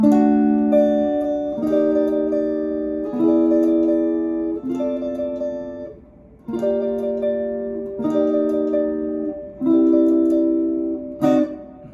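Acoustic guitar strumming a rhythmic gypsy jazz chord sequence in a swinging style, played alone and close, with brief pauses between phrases.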